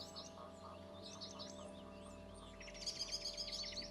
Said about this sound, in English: the chirring, trilling song of redpoll above me remind me how far north I've come